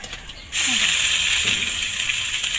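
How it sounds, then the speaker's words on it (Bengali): In a wok, bay leaf, garam masala and cardamom fry with onion and chilli for a rural fig dish. After a quiet start, a loud, steady hiss of sizzling oil bursts up and carries on to the end. "তো মশলাগুলোকে ভেজে নিচ্ছে।"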